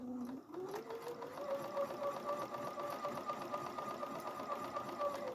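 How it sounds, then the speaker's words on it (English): Sewing machine back stitching at the start of a sink skirt hem, a quick stop-start whir that settles into a steady, close mechanical drone with a rapid needle rhythm. "I'm going to back stitch at the beginning."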